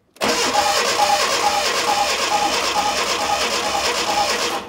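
Renault 5 engine cranking on the starter during a cylinder compression test, a loud, steady, rhythmic churning that runs for several seconds close to the microphone with no talking over it.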